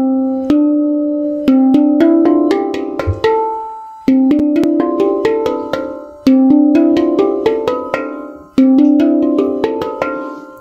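Steel space drum (tongue drum) struck with the tip of the thumb: bright, ringing metallic tones in short melodic clusters, each group left to decay before the next, close and clear with no talking.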